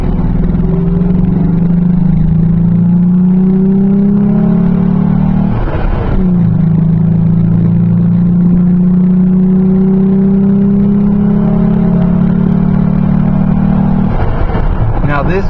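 A stock Ford Ranger pickup with a modified air intake pulls away on a test drive, its engine droning steadily and rising in pitch through the gears, with a brief shift break partway and another near the end, loud and close throughout.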